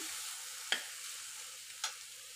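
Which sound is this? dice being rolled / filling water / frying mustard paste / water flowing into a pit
frying mustard paste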